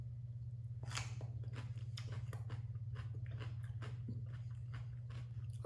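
Close, crisp chewing of cucumber sprinkled with a potassium chloride salt substitute: repeated quiet crunching bites over a low steady hum, with no voices.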